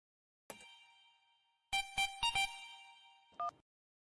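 A mobile phone ringtone plays a few clear electronic tonal bursts during a call set-up, starting with a single tone, then a quick cluster of beeps and one last short ring, with no speech in the clip.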